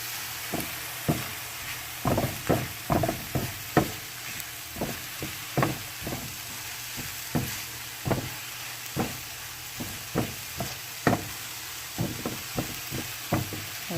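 Party wings cooking in a pan with cilantro, salt and pepper: a steady frying sizzle under frequent irregular clicks and knocks of stirring, close and moderately loud with no talk.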